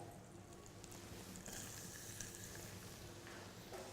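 Butter foams in a pan with a soft, steady sizzle and crackle, close by and quiet, without talk.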